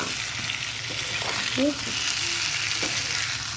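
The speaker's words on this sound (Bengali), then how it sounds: "এখানে আমি করছি আলু ভাজা" Potatoes sizzle and fry steadily in a wok, a close, continuous crackle with occasional stirring, while a voice speaks briefly over it.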